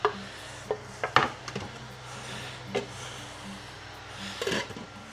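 Chopped vegetables for a quinoa soup tipped into a cooking pot, with a few sharp clatters and scraping knocks against the pot, spread across the moment, fairly close with a quiet kitchen background.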